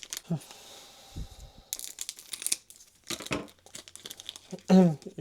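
A crinkly foil Dragon Ball card booster pack crumples and tears in short bursts, with brief speech and handling noises between the rustles.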